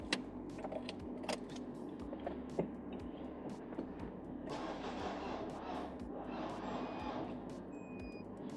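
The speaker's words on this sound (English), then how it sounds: "Keys." A set of keys jangles and clicks close by beside a Toyota with a non-start fault and a P1604 code, with brief metallic rattles coming and going over a low steady hum.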